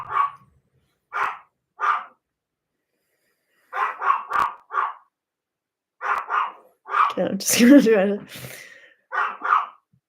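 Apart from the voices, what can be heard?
dog barking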